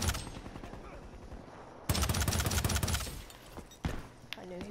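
Rapid bursts of automatic gunfire in a first-person shooter match, with dense firing, a pause, then a second louder burst and a brief trailing volley, loud and close throughout.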